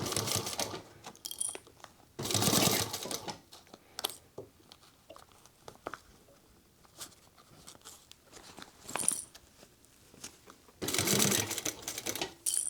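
A sewing machine stitches sling bag fabric in short, close bursts of fast whirring separated by quiet pauses with small handling clicks and rustles, and no one speaks.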